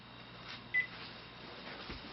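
A disconnected phone call gives one short, thin electronic beep, faint over a quiet hiss on the line.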